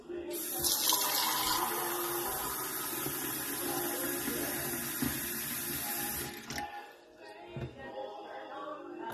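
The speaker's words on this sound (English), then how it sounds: "Notice I am pouring a measuring cup full of water into the McDonald's cup." Water pours steadily from a measuring cup into a McDonald's iced coffee cup that has a hole in the bottom, a continuous close splashing gush lasting about six seconds before trailing off into quieter drips and trickles.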